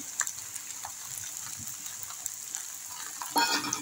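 Potatoes sautéing in oil in a pan for a spiced potato curry, a steady close sizzle with faint scraping stirs throughout and a louder burst of frying near the end.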